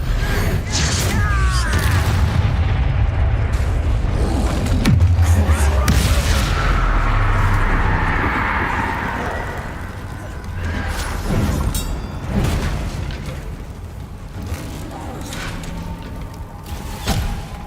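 Bombarda and Confringo spell explosions in Hogwarts Legacy: loud, continuous booming blasts and crashing impacts with whooshing magical effects during a chaotic duel, sustained throughout and gradually easing slightly in the second half.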